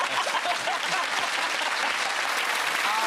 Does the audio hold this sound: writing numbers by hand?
no